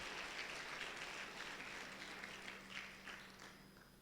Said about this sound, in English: Let's give all the previous speakers a big round of applause,